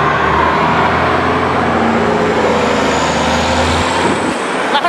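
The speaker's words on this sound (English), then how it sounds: "Trucks are loud." Heavy trucks rumble past loudly outside a vegan cafe, a continuous broadband roar with deep low-end drone that fades out near the end.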